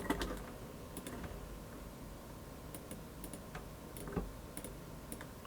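Mouse clicks while editing an image in Photoshop, a few sharp ticks scattered at uneven intervals over a steady low background hum, with no talk.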